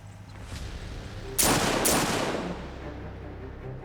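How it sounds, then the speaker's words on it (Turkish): Two loud, sharp gunshots are fired behind a closed door, about half a second apart, each a sudden blast with a short ringing tail over a low, quiet room background. "Silah patladı."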